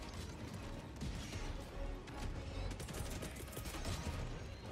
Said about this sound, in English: Oh, mortar sentries.